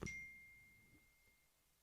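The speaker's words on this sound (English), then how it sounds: "Let me silence this phone, which I thought I had, but apparently not." An iPhone gives a single faint notification ding, a clear ringing tone that slowly fades over about a second and a half in a quiet room.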